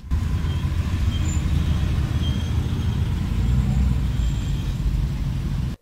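A yellow Jaguar MK2 classic car passes by on a road, its engine a steady, loud broadband rumble that holds for several seconds before cutting off abruptly.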